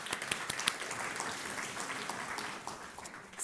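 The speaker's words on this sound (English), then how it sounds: "Please give yourselves a round of applause." An audience claps steadily at a healthy-eating community event in North Carolina, a dense, even wash of many hands that stays level for a few seconds and swells slightly at the end.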